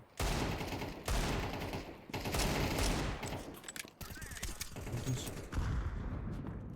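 Rapid bursts of gunfire from the video game Counter-Strike 2, several loud volleys in a row separated by brief pauses, dense and close with game ambience between them.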